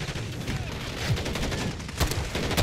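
Rapid, loud weapon fire in a video game from a JAK Thumper gun, dense overlapping shots with a couple of sharper blasts near the end, nobody talking.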